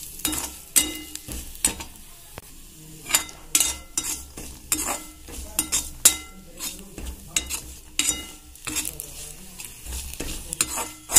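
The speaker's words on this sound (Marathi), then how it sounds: "तुम्ही बघू शकता इथे छान आता आपलं खोबरं सुद्धा भाजलं जात आहे" Dry coconut being roasted in a pan and stirred with a spoon, giving repeated sharp scraping strokes at an uneven rhythm over a soft background sizzle, close and clear, with no talking.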